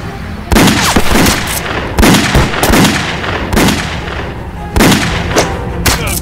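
Sharp gunshots crack out in a Chinese anti-Japanese war film, several loud reports spaced irregularly across the scene, each followed by a short rumbling tail, with no talk over them.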